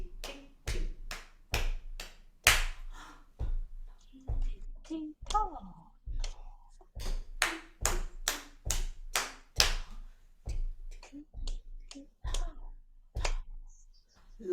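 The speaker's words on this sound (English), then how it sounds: "I'll clap the first phrase, you clap the second phrase, I'll clap the third phrase, you clap the fourth phrase." Hands clapping short rhythmic phrases in a music training session, crisp claps in steady groups with brief pauses between phrases, close and clear, no talking.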